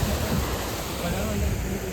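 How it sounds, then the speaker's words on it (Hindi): Small waterfall beside the Kedarnath trekking path, a steady broadband rush of falling water that runs unbroken and fairly loud for the whole stretch, with no voices over it. "थोड़ी थोड़ी दूर में झरना टाइप आ रहा है"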